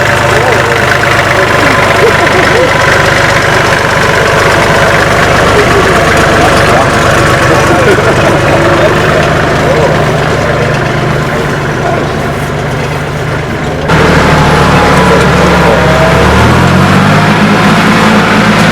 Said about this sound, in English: Just when you thought we were done with the tractor demos, we decided to bless you with a few more,